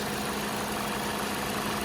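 A 2014 Ford Fusion SE engine idles smoothly and evenly, a steady, unbroken low hum with no knocks or irregular noises over its short span, with no voices.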